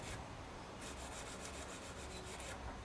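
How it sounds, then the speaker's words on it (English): Emery cloth rubbing back and forth along a serrated knife blade to sharpen it, a faint, close, rasping scrape repeated in quick regular strokes over a steady hiss. "the serrated part of the blade has been sharpened with the emery cloth"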